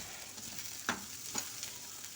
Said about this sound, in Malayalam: മുറിച്ച് വെച്ചിരിക്കുന്ന ഉള്ളിയും പച്ചമുളകും ചേർത്ത് വഴറ്റാം